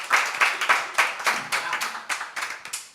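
An audience claps in honor of a musician, the applause coming in uneven rhythmic bursts of hand claps, fairly close and loud, with no talking over it.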